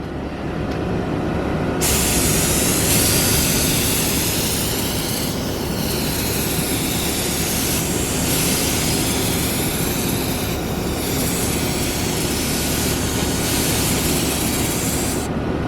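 Spray gun hissing steadily as it sprays paint onto a Ford Y-block engine part, a continuous loud airy spray with brief dips in intensity across the whole stretch.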